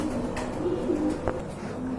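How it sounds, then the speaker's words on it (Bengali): Pigeons at a sale, including a black lace satin, coo softly. A few low, rolling coos sound nearby over a steady background murmur. "আর এখানে কিন্তু দুইটা কবুতর আছে"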